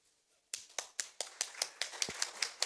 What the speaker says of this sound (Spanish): vamos a hacer una oración con una ofrenda de palmas